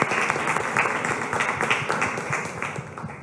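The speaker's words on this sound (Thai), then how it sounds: "ปรบมือเป็นกำลังใจให้เพื่อนหน่อย" A classroom of Grade 9 students claps for a classmate during a math lesson, a brisk, continuous patter of hands that holds at an even level throughout with no talking.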